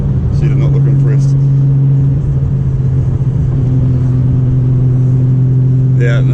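Engine of a Nissan R34 GTR, over 1000 hp, droning loud and steady on a dyno in a low gear as the wheels spin, with a strong constant hum and rumble throughout and people talking over it.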